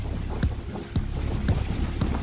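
Strong gusting wind buffets the microphone on the Historic Anna Maria City Pier, which reaches out into the Gulf, making a loud, continuous low rumble with periodic thumps throughout and no voices.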